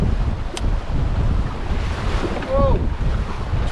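Strong 20-knot wind and choppy waves around a 20-foot sailboat, with steady wind roar buffeting the microphone, water sloshing against the hull and a brief creak, loud and continuous throughout.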